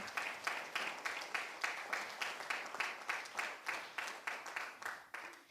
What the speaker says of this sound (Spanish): Dele ese aplauso fuerte al Señor.